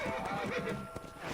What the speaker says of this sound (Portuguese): Como é que freia esse cavalo, hein?